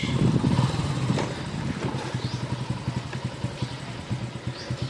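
Motorcycle engine running steadily on a ride from San Carlos to Maramag, Bukidnon, a loud, close, rumbling throb with rapid rhythmic pulses that ease slightly after the first second and continue throughout.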